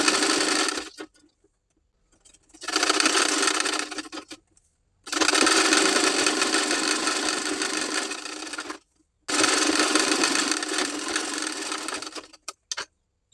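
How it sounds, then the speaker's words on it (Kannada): Sewing machine stitching lining onto one side of a blouse katori (bust cup panel), running in three long bursts with brief pauses between them, close and loud with no talking. "ಈಗ ಇನ್ನೊಂದು ಸೈಡ್ ಕಟೋರಿಗೆ ಲೈನಿಂಗ್ ಹಚ್ಚಿ ಸ್ಟಿಚ್ ಮಾಡ್ತಾ ಇದ್ದೀನಿ."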